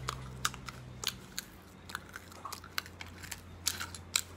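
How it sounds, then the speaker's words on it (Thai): Crunchy dried jujube is bitten and chewed close up, sharp crisp crunches repeating at an irregular, steady pace over a low hum, with no talking. "พุทรานี้กรอบนะคะ"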